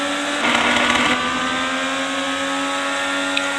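IndyCar race cars at the GoPro Grand Prix of Monterey roar along the front straight. A loud engine burst swells in the first second, then a steady high engine drone carries on alone.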